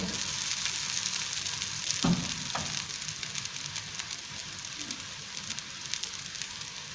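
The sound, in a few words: kebabs frying in ghee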